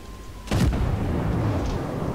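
A single heavy naval gun blast from a warship in World of Warships booms out suddenly, then trails off into a low rumbling roar that lingers for over a second.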